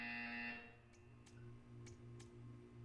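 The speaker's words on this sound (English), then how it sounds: "You hear a buzzer." A brief electronic buzzer tone from the video game Portal 2 sounds at the start, followed by faint low humming and a few soft ticks.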